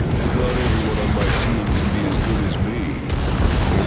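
Warship guns firing in the naval battle game World of Warships, with several ships shooting at one target: a dense stream of booming salvos and bursts under steady rumbling battle noise.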